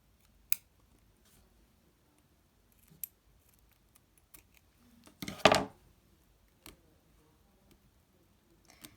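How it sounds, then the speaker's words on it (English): Scissors snip through rubber loom bands on a Rainbow Loom figure, giving scattered faint clicks and one louder, longer cutting crunch midway, close up in a quiet room. "I'm just gonna use scissors and cut it off"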